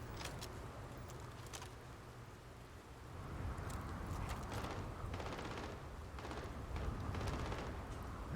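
Distant gunfire in the video game Starfield, a series of muffled shots and bursts rumbling beneath a steady low background, growing denser in the second half.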